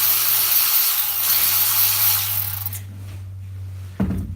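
Milwaukee power tool running steadily while removing 10mm bolts during engine removal from a 1976 truck, a sustained whirring motor that cuts off near the end followed by a brief clunk.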